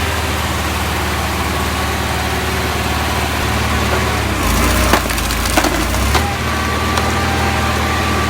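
Custom log splitter with a running engine splitting massive, twisted firewood logs, a loud steady mechanical drone broken midway by sharp cracking and splintering of wood.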